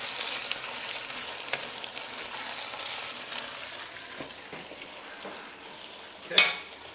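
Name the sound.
red beans and seasoning sizzling as they cook in a big pot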